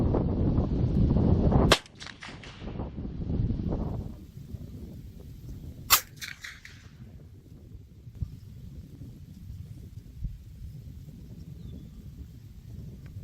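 A .44 Magnum revolver fires a single loud, sharp report at a distant target outdoors, ringing out over steady wind rumble, with a faint crack echoing back a few seconds later.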